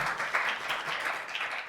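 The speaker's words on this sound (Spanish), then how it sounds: "Les pido por favor un aplauso a todos para Jan Sadadú." Audience applause at a school climate-change capacity-building event, a dense, steady patter of clapping filling the short stretch with no talk.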